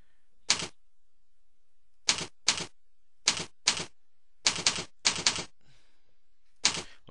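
A password is typed on a computer keyboard in ten sharp, close keystrokes. They fall in irregular bursts of one, two and three, with silent gaps between them and no voices.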